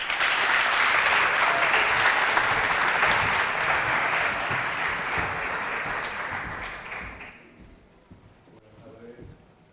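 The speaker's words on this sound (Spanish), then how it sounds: "Un muy fuerte aplauso para el Director General de Formación Profesional" A seated audience at an education talk event applauds the Director General of Vocational Training, a dense sustained clapping that tapers off toward the end as a few voices and rustling come through.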